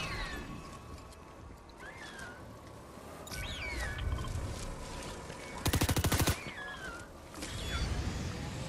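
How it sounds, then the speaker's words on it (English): Gunfire in Fortnite gameplay: bursts of rapid automatic shots, the loudest a dense rattling volley around the middle, mixed with game effects and chirpy sounds. "the shooting"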